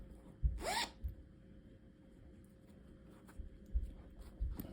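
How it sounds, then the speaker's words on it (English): Zipper on a homemade outdoor pillow case being zipped, one quick rasping pull near the start, followed by soft handling thumps and rustles in a quiet room. "We did the zipper, and it zips."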